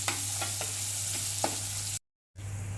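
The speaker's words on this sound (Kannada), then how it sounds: "ಟಮಾಟಿ ಹಣ್ಣು ಹಾಕ್ಕೊಂಡಿರ್ತೀವಲ್ರಿ ಚೆನ್ನಾಗಿ ಎಣ್ಣೆನ ಫ್ರೈ ಮಾಡ್ಕೋಬೇಕ್ರಿ" Tomatoes fry in oil for a coconut sambar with a steady low sizzle and a few sharp spoon scrapes, then a brief cut to silence before the sizzling resumes.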